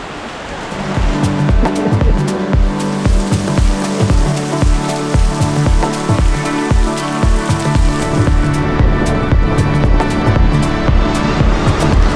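Steady rain pattering and drumming on a hard surface in Amed, East Bali, loud and close, with dense irregular drops throughout and no voices.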